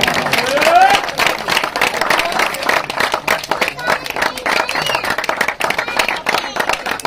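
Loud, sustained applause from a crowd at a cricket tournament prize-giving ceremony in Punjab, continuous clapping throughout with a voice speaking over it.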